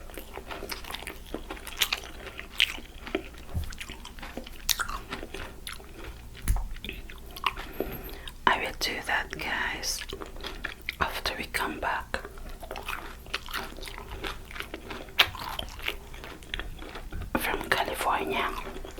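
Close, soft chewing and crunching while someone eats vegan air-fried tofu with rice and stir-fried vegetables, with irregular bites and mouth sounds throughout, mixed with quiet whispering.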